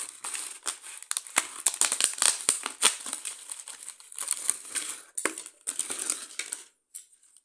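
Plastic blister packaging holding a set of Allen keys is handled up close, giving crisp crinkling and crackling with scattered clicks and taps in irregular bursts that thin out toward the end.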